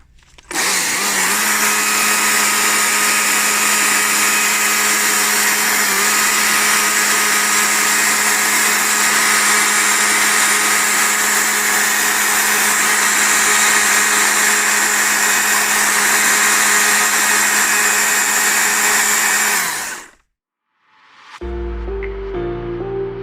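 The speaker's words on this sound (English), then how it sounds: "you can see you can get quite good detail with the saw" A chainsaw cuts feather detail into a wooden double tawny owl sculpture, running loud and close at a steady high whine for about twenty seconds before cutting off, followed by faint knocking.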